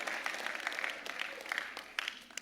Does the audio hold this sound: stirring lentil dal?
no